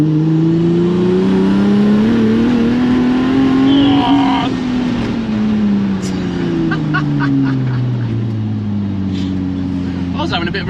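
A Ford F100 pickup running a twin-turbo Nissan 370Z engine swap drives through an industrial area, heard from inside with a steady loud engine drone rising and falling as it accelerates, with people talking over it.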